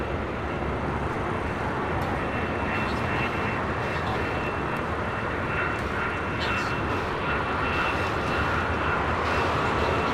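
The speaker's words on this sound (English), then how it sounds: "It's Philippine Airlines coming in from Manila, 777 at 300 ER." Philippine Airlines Boeing 777-300ER arriving at LAX from Manila, a broad continuous jet engine rumble and rush at moderate distance, steady throughout.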